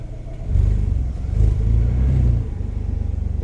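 Renault Clio V6 Sport Phase 2 engine rumbles as the car pulls away, a deep low drone that swells and holds for about two seconds, then settles to a steady idle-like throb, heard from inside the cabin with no talk.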